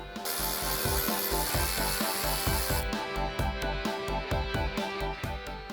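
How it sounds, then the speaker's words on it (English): A nut is backed off a through-bolt on an Eibach sway bar during an install on a Fox-body car, heard up close as a loud scrape followed by a steady train of evenly spaced ratcheting clicks. "hold the top and unthread from the bottom"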